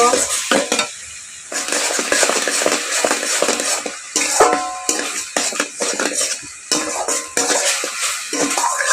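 Raw green banana pieces stirred with salt and turmeric powder in a frying pan for kofta, a spoon scraping and clattering in repeated bursts over a soft sizzle, close and fairly loud, no voices.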